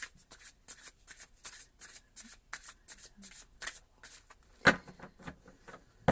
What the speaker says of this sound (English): We're going to shuffle it 12 times.